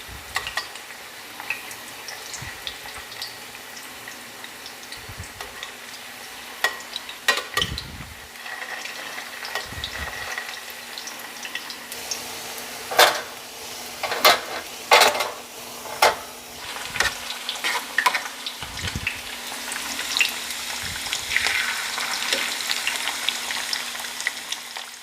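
Rolled tacos, or flautas, fry crisp in hot oil with a busy crackle. Sharp knocks and scrapes come as pieces are flipped, and the sizzle swells louder toward the end.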